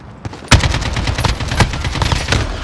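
AK47 fire in a Search and Destroy match of a shooter video game cracks out as a rapid string of loud, close shots, one sharp report followed by steady automatic bursts.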